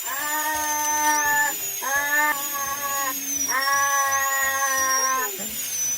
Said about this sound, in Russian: Даша врач у нас сейчас будет сверлить